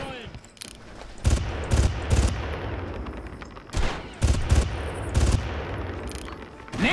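Bursts of gunfire in the video game Far Cry, several loud volleys of rapid shots separated by short pauses, with a faint voice underneath.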